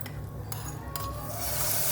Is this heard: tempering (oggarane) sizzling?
yes